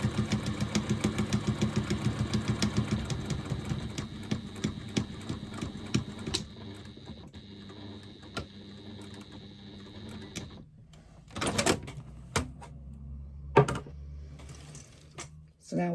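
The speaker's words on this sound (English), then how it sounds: "we're stitching down the other long side" A sewing machine adapted for its user stitches down the long side of a fabric rectangle: a fast, steady stitching rattle fills the first six seconds, then gives way to scattered clicks and a faint hum.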